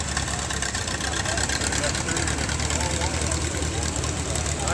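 Engine of a 1937 tractor with electric start running steadily nearby, a continuous low rumble with a faint rhythmic pulse and no breaks.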